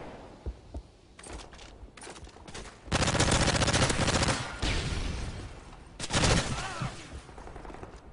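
Video game gunfire: scattered single shots at first, then two loud sustained bursts of rapid automatic fire, close and dense, with faint voice chat in the background.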